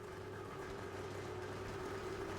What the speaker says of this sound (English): start the engine and let it idle.